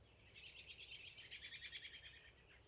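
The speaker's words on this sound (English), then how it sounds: "I'll let you listen to these birds." Small birds chirp outdoors in a faint, quick, rhythmic series of tweets that rises in the middle and fades again, with no voices over them.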